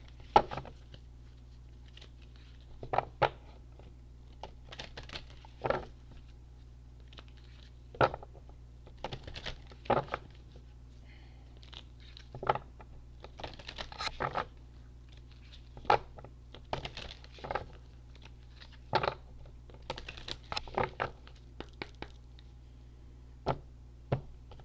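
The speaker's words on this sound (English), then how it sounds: "I'm going to give it some shuffles here because I haven't shuffled these yet." Tarot cards being shuffled by hand give short, crisp riffling and snapping bursts at an irregular pace of roughly one every second or two, close and quiet over a faint steady hum.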